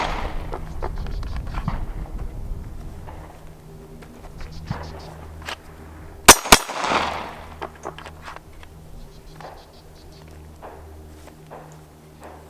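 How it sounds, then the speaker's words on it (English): Two sharp pistol shots crack close together midway through a concealed-carry holster drill, standing out against quiet shuffling and handling noise before and after. "I'm gonna shoot just 2 rounds, tuck it back."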